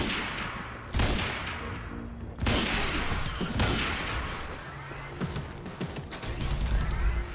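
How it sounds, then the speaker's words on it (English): Heavy gunshots in Quantum Break, sniper rifle fire among them, boom out in several loud blasts spaced a second or two apart over continuous rumbling action. "we got a sniper. Let's use a few shots of this"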